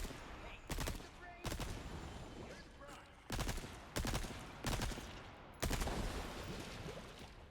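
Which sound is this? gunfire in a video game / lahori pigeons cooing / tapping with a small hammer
gunfire in a video game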